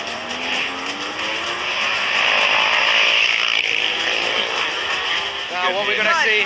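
MotoGP motorcycles at the US Grand Prix scream past with a loud, sustained high engine whine that rises and shifts in pitch, under continuous commentary.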